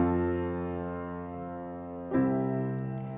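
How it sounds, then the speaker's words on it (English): Two sustained organ-like chords moving from the subdominant to the tonic in an amen cadence, the first held about two seconds, the second entering with a fresh attack and ringing on, close and clear with no voices. "That's called the amen chords"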